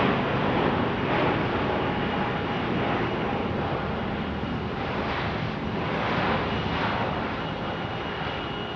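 An Airbus A321neo airliner at Phoenix Sky Harbor airport gives a steady, broad jet roar that holds loud and even throughout, with some wind buffeting the microphone.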